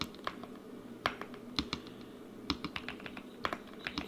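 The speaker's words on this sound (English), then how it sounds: "What is going on with this typing?" Keys clatter on a computer keyboard in irregular bursts of quick taps with short pauses, close and moderately quiet over a faint room hum, no talking.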